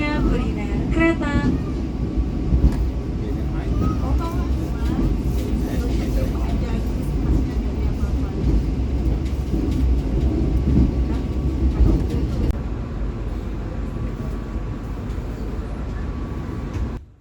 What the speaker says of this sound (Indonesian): Kereta Jayabaya pun diberangkatkan dari stasiun Jakarta Pasar Senen